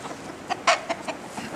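Barnyard chickens cluck in a handful of short, scattered calls, one louder squawk standing out among softer nearby clucks over quiet outdoor background.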